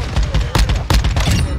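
Rapid gunfire in Call of Duty: Modern Warfare II multiplayer, several loud close shots in quick bursts with a short pause between them, filling the whole moment with no one talking.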